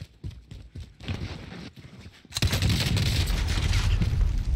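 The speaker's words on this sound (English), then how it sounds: "I looked at the gunshots and I was able to" In a video game, a burst of rapid gunfire erupts partway through, loud and sustained, after a quieter stretch of scattered knocks and thumps.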